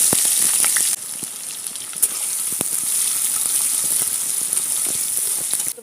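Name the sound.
chopped onion frying in oil with bay leaf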